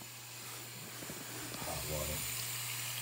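Hot water is poured and flung into -20 degree air outdoors in Williston, making a soft, fairly faint splashing hiss that swells toward the end, with a little background noise.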